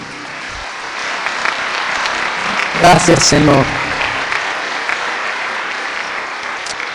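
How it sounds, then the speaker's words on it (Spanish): A church congregation gives a short burst of applause for the Lord during a Spanish-language sermon, rising briefly under a voice speaking and then fading back to his talk. "¿Cuánto le dan un aplauso al Señor por esto?"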